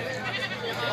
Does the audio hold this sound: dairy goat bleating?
yes